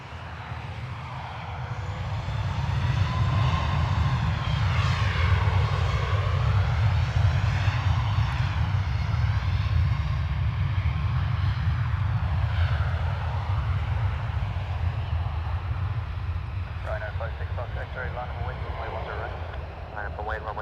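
A Ryanair jet takes off from runway 10 right at Dublin Airport, its engines roaring loud and steady throughout, with faint radio chatter from air traffic control toward the end.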